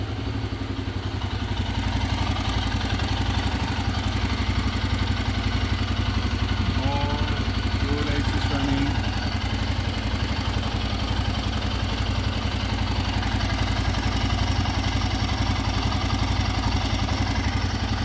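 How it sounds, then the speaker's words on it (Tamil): Royal Enfield Himalayan 450 motorcycle engine idling steadily after an NGK double-tip iridium spark plug install, a constant close mid-low engine drone running alone throughout with slight mechanical clatter. "இப்போ வந்து பார்த்தீங்கன்னா வண்டி பக்காவாக ரன்னிங்."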